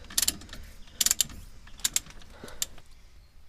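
Wrench ratcheting as the brake caliper slider bolt is loosened on a Vauxhall Calibra during an EBC brake replacement: several sharp clicking bursts in clusters, close and fairly loud, with no talking.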